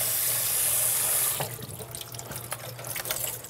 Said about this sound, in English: rinse it with hot, clean water, approximately 110 degrees.